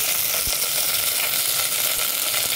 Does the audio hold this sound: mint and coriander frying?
yes